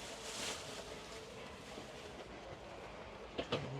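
Passenger train in Kazakhstan running steadily, a continuous rumbling rail noise with a few brief clanks near the end, heard from inside the carriage with no talk.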